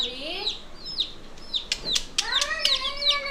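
Chicken chicks peep and chirp in quick repeated high calls, several close together, with a louder clucking hen nearby.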